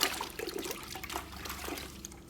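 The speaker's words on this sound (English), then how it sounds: "So what we're gonna do is just do 1 capful of the product, pour it in," Rinseless car wash product poured and mixed into a bucket of water, a soft, fairly faint splashing and trickling swirl that stays steady for a couple of seconds with no voices.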